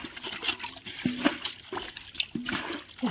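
Water trickles and splashes steadily from a pipe into a canal during fishing, a close, continuous liquid gurgle with faint voices and low background noise.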